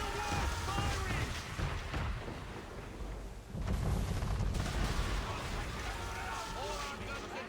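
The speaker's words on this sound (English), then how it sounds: "Man of war firing!" Heavy cannon fire from a man-of-war warship in Assassin's Creed 3, rolling booms and rumbling blasts running continuously under loud shouting voices in a chaotic naval battle.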